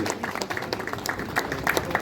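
Applause at a biennial convention of Indian railway mail service staff honours an active member: a crowd's scattered, mid-level clapping with irregular individual claps standing out, and some voices faintly mixed in.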